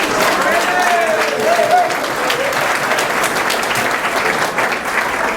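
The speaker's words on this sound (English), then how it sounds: "Thank you, Mr. Cerullo, for starting that sympathy applause" Audience applause fills a high school sports association banquet hall, with steady, dense clapping from a crowd lasting the whole stretch and a brief voice rising over it.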